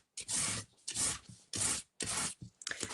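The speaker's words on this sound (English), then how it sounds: "So I'm sanding that back." A sanding block is rubbed across card in four or five short, rasping back-and-forth strokes, close up with brief pauses between.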